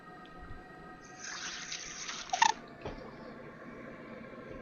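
Tap water runs briefly into a glass or sink for a drink, a soft splashing burst in the middle over a low background hum, with a small clink near its end.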